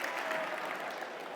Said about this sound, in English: Give my new friend a big round of applause, everybody